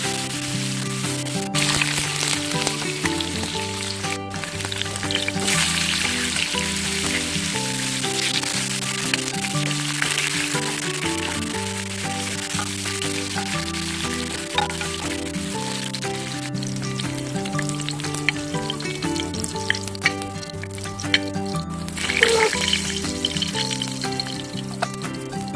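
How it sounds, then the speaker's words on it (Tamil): Fish fry in oil on a flat tawa, giving a steady close crackling sizzle with scattered pops, continuous and fairly loud with no talking over it. "நல்லா ஃப்ரை பண்ணி எடுத்துக்கலாம்."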